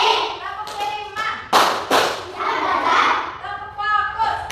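Bursts of sharp hand clapping come in a steady rhythm during a classroom clapping game, close and lively, with children's voices calling between the claps.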